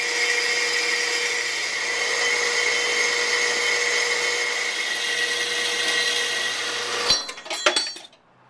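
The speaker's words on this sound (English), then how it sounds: "just look how easy it is to do compound miter cuts" A power saw makes compound miter cuts through metal in a home metal shop, a loud steady high whine running continuously, then winding down with rattling and clatter at the end.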